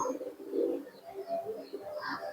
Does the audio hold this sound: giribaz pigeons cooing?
yes